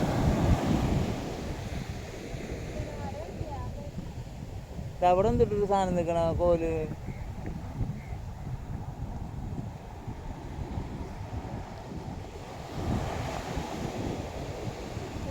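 Sea waves wash up on a beach amid steady wind rumble and broad surf hiss, rising and falling through the stretch, while a person speaks briefly partway through.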